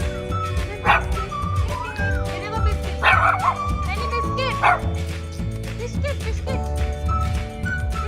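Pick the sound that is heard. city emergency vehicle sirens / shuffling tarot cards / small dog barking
small dog barking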